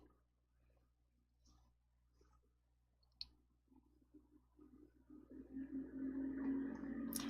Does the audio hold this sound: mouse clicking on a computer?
yes